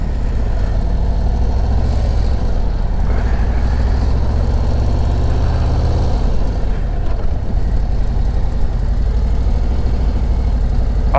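A 2024 Harley-Davidson Road Glide motorcycle idles in a parking lot with a steady, deep, close engine rumble that holds a constant low throb throughout, and no voices are present.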